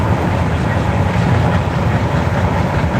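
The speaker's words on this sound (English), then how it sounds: "there is the other train right there" A grain train rolls past close by in a steady, dense rumble that holds level throughout, with faint talk in the background.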